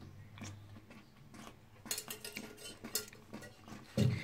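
A spoon stirs thick dum aloo gravy in a pot, giving soft wet squelches and a few metallic clinks and scrapes against the pan, quiet and close, ending in a louder knock.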